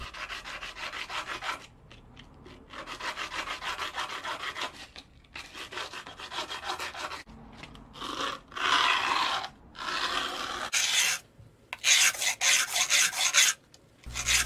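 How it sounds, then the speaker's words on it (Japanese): Steady rasping strokes of a file shaping a tapered tip with a hexagonal section on a cheap Daiso metal fire-blowing pipe, close and loud, in bursts separated by short pauses. "ちょっとこうドリルじゃなくてね、直線的に削っていきますね"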